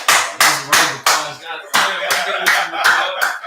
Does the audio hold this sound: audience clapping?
yes